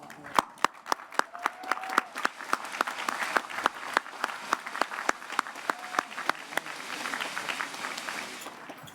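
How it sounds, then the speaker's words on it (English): Audience applause at a high school graduation ceremony for the class of 2021, a steady wash of many hands clapping with sharp individual claps standing out, sustained and fairly close for the whole stretch. "please join me in thanking families and staff with the well-deserved round of applause"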